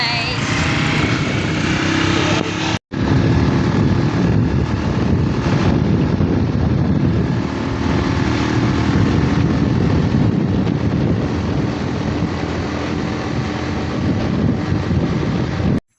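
A motorcycle engine drones steadily while riding, mixed with strong wind rush against the microphone, loud and continuous with one brief cutout near the start.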